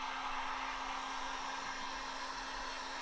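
A heat gun or hair dryer blowing hot air onto a car window to soften tint film for removal, a continuous loud even whoosh with a steady motor whine throughout.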